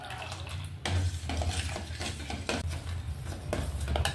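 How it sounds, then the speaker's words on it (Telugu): A spoon stirs custard powder mixture into milk in a pot, making repeated close scraping and clinking strokes in an uneven rhythm over a soft liquid swish. "ఇప్పుడు ఇది పోసుకుంటూ కొంచెం కొంచెం కలుపుదాం."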